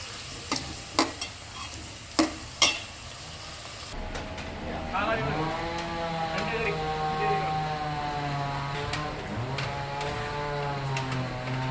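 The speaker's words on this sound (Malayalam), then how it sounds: "ഇത് ഇട്ടതിന് ശേഷം നന്നായിട്ട് വഴറ്റിയെടുക്കണം കേട്ടോ" Ginger, green chilli and curry leaves sautéing in hot oil for a homemade mackerel curry: a few spoon clinks, then a steady loud sizzle with someone speaking over it.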